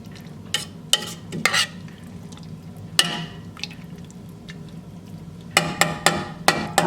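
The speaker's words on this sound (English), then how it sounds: "I'll let this simmer for a ½ hour" Orange marmalade chicken cooks in a pan with a soft bubbling sizzle underneath, punctuated by repeated sharp scrapes and clanks of a spoon stirring against the pan, several in quick succession near the end.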